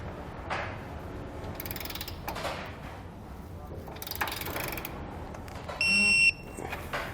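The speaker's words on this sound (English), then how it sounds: "Now I'm going to come back with a 19mm socket and tighten down all of our hardware." Ratchet with a 19mm socket tightening hardware on a base plate kit, several bursts of rapid clicking, close and moderately loud, ending with a brief sharp tone.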